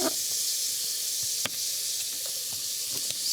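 White wine hitting an overheated pan, giving a steady broadband sizzle and hiss that holds throughout, with a few faint clicks and pops and no talking.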